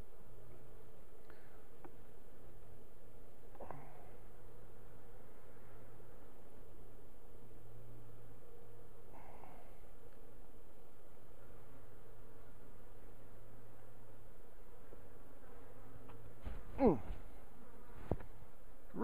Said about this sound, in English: Calm bees, good producer.